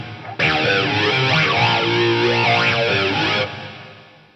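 A Lexicon MPX-1 rack effects unit plays its Centrifuge 1 preset, a sustained, swirling distorted tone with sweeping modulation and a formant resonator character for about three seconds, then cuts off abruptly.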